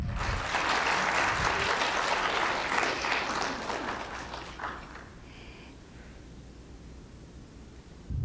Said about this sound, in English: You can go ahead and applaud.